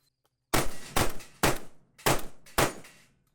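Five sharp shots from a MAC 2 pistol-caliber firearm fitted with a compensator, fired at an even, fairly quick pace, each crack ringing out briefly with no talk over it.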